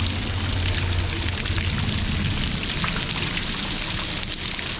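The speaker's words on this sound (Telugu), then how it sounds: "జలపాతం దగ్గరకు వచ్చాం" Water crashes down in a constant, dense roar of a waterfall near Srisailam, loud and steady throughout with no voices.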